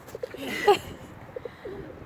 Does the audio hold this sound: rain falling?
no